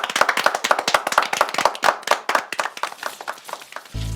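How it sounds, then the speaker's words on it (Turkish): A small group of children claps for themselves after an outdoor nature cleanup, a quick burst of fairly close, uneven hand claps lasting a few seconds and ending abruptly in a short rush of noise. "Şimdi alkışlayalım kendimizi."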